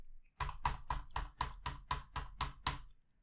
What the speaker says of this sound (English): I'm gonna stop talking and I'm gonna press my keyboard